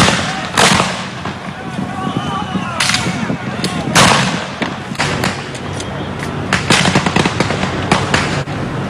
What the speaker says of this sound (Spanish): De pronto se escuchó una ráfaga de tiros.